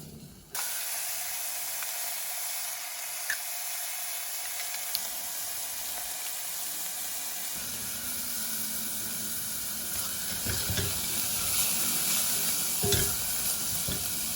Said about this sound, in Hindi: प्याज डाली आपने, और इनको आपने ब्राउन नहीं करना है, थोड़ा सा ट्रांसपेरेंट होने देना